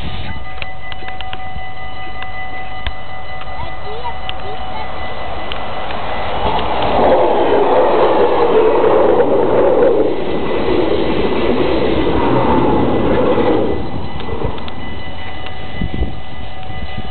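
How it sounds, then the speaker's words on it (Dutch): An SLT commuter train passes a level crossing in Baarn, its rumble swelling over several seconds, holding, then fading, against steady outdoor background noise. "Er komt nog een trein."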